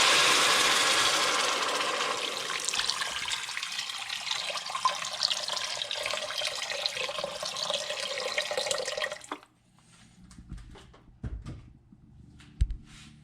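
Water is poured from a tap into a cooking pot for pork bola bola with misua, giving a loud, steady rush that fades. Then the tap is shut off, followed by a few faint clinks and a thud.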